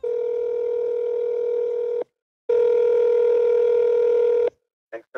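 Telephone tones on a call: two long steady ringback tones with a pause between them, then a brief electronic blip as the line picks up.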